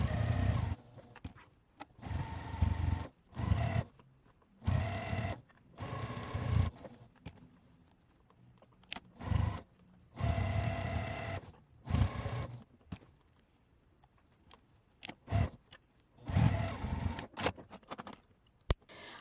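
Home sewing machine stitching pom-pom trim onto a quilted Christmas ornament, running in several short bursts separated by pauses, close and fairly loud with no talking.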